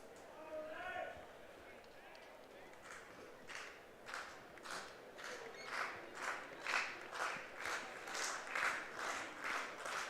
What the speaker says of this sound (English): Majors crowd trying to cheer on Arias here as he looks to work through the top half of the 6th inning